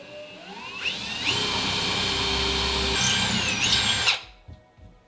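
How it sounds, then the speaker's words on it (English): A power drill drilling into a cabinet whirs steadily for about three seconds, its pitch rising as it spins up and dropping off at the end, loud and close. "you always want to check to see before you drill if you're not hitting a shelf"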